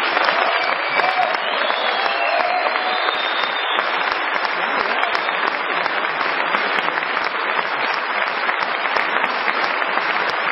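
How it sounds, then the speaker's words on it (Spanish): Sustained audience applause at a motivational talk in Bogota, a dense, even roar of many hands clapping that holds steady throughout without a break. "Un aplauso."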